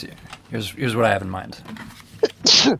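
A single sharp sneeze bursts out near the end, close and loud, right after someone talks at a relaxed pace.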